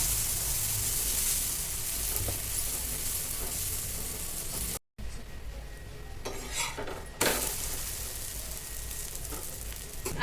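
Uttapam cooks on a hot pan with a steady, broadband sizzle, interrupted by a brief silent gap near the middle, then resumes with scraping and clinking of a utensil against the pan.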